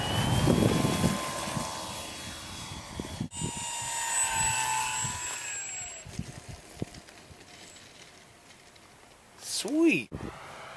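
An RC model airplane flies overhead, its small engine whining and shifting in pitch as it passes, with a sharp rising and falling sweep near the end; people talk nearby.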